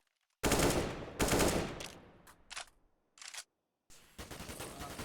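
AK rifles fire in a Counter-Strike match, loud sustained automatic bursts broken by brief gaps and short separate volleys, close and without talking over them.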